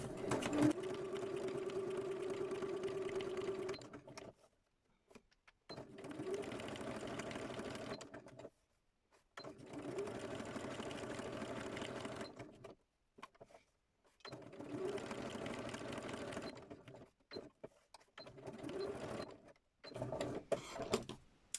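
A sewing machine runs in several steady bursts of rapid, even stitching, pausing briefly between runs, quiet and close with no voices.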